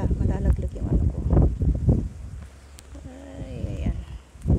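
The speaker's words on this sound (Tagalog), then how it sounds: "Narinig nyo ba? Mahangin." Gusty wind buffets the microphone with low rumbling, while voices talk over it nearby.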